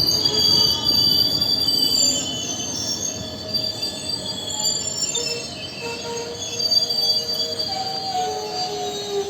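A train pulls into Garh Dhurbeshwar station with steady rumbling wheels and high, sustained metallic squealing from the rails, continuous and fairly close with no voices.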